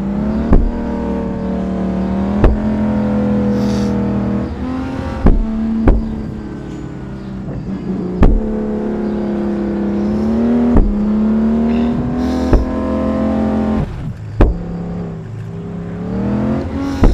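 A fast car in the Grand Criminal Online Android game holds a loud, sustained engine drone that repeatedly climbs in pitch and drops at gear shifts. Sharp clicks and thumps cut in every couple of seconds.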